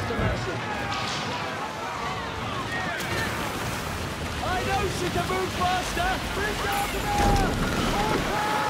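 Wind and ocean waves wash steadily around a sailing ship in the pirate game Skull and Bones, a continuous broadband rush with creaks and tonal calls drifting over it.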